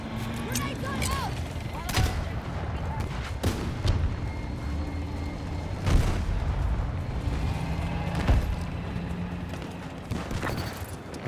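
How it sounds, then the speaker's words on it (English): Battlefield 2042 gameplay with a grenade launcher firing: several sharp booming shots spaced a few seconds apart over a busy mix of battle noise and mechanical clatter, with someone talking at times. "Grenade gun out!"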